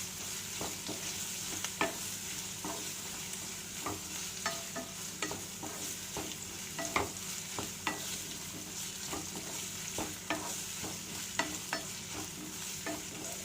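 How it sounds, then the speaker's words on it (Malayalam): Chicken Manchurian pieces fry in a hot pan with a constant oily sizzle, while a spoon scrapes and taps the pan in an irregular rhythm, close and steady, with no speech. "ജസ്റ്റ് 1 മിനിറ്റ് ഇതുപോലെ ഒന്ന് ഫ്രൈ ചെയ്തെടുക്കാം"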